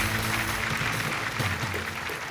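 Audience applause rings out for a junior team at an insurance awareness quiz final, a continuous wash of clapping over a low droning musical tone, steady and unbroken without talk.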